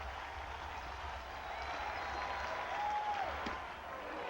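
Home-opener crowd at Fenway Park applauding Mo Vaughn in a standing ovation, a steady, distant wash of clapping and cheering that swells slightly toward the end.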